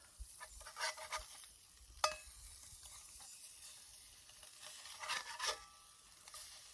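Spam sizzles faintly in a hot skillet at a campsite, a soft crackling hiss punctuated by a few sharp clicks and scrapes of a utensil turning the meat.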